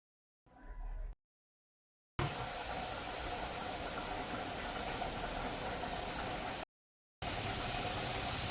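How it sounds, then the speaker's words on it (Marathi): A pot of chavali usal, a spicy black-eyed bean curry, comes to a boil on the stove, giving a steady steamy hiss broken by brief silent gaps, with no one speaking. "उकळी आलेली आहे."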